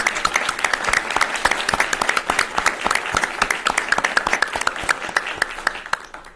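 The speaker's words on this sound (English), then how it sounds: "if we could all give these folks a round of applause" Audience applause at a county public hearing, a dense wash of many hands clapping steadily and fairly loud for several seconds with no voices on top.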